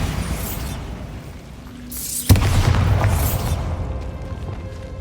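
The Bombarda spell explodes in the video game Hogwarts Legacy: a rising whoosh, then one sharp loud blast whose rumbling debris slowly fades away.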